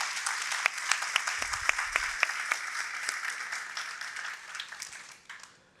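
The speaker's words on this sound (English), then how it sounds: "Let's give them all a round of applause." Audience applauding the debaters after a debate on licensing, clear individual claps in an uneven patter that thins out and fades toward the end.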